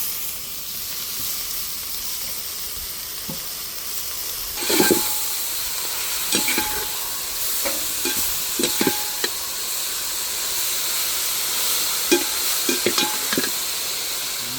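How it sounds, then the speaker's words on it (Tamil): Coriander and mint leaves sautéing in a pan for a chicken curry paste: a steady close sizzle and hiss with scattered stirring scrapes and clinks, no talking. "அந்த மல்லி புதினா கழுவி வச்சிருக்கோம் இல்லைங்களா, அதையும் சேர்த்து நல்லா வதக்கி போகிறோம்"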